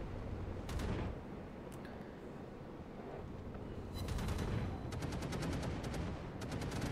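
North Carolina battleship guns firing in World of Warships, with repeated booming salvos and crackling gunfire over a continuous dense rumble of battle noise, heavy and sustained throughout.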